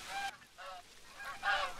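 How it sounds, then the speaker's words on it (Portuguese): Goose honks from the hunting video game The Hunter: Call of the Wild come in three separate bursts, nasal and fairly close, with short quiet gaps between them. "O ganso deu uma"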